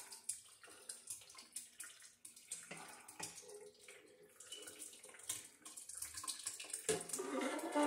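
Strawberry wine mixture is poured into a container, a soft continuous splashing stream that swells louder toward the end.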